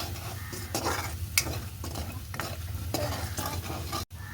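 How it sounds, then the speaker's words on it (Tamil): A spice mixture for pickle is stirred in a hot pan with repeated scraping strokes over a steady sizzle and frying crackle, close up and without talking. "இவ்வளோத்தையும் சேர்த்து ஒருக்கா நல்ல வடிவாக மிக்ஸ் பண்ணி விடுவோம்."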